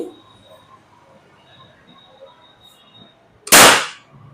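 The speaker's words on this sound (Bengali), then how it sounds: "তো এটা একটা ড্রাই ফায়ার করে দেখাই" A Dynamic model 35 air gun is dry fired once, a single loud, sharp crack after a few seconds of quiet room noise.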